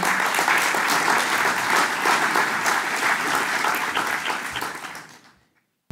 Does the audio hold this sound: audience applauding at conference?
yes